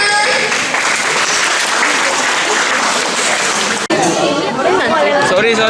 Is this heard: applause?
yes